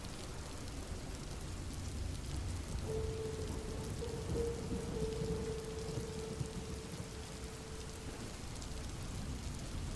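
Steady rain pours down on a surface with a dense, even hiss that never lets up, and a faint tonal hum drifts through the middle for a few seconds.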